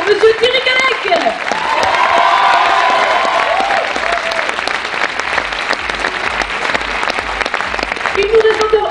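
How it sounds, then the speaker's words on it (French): A theatre audience at a live stage show in Millau applauds loudly and steadily, a thick roar of clapping with some cheering, while a voice speaks over it. "Encore une fois, on peut l'applaudir bien fort"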